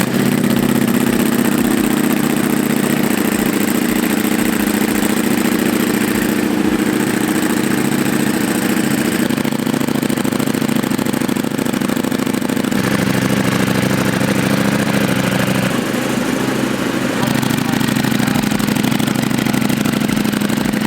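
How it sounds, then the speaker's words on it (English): A Ducati Panigale V4S sport motorcycle engine idles steadily and loudly up close, a continuous low rumble with slight shifts in tone and no talking. "I'm just gonna start the motorcycle."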